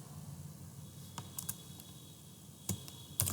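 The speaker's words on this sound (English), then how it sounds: "I have to type the name" A computer keyboard clatters with sparse, close keystrokes: a few isolated taps, then a louder cluster near the end, over a steady background hum with no talking.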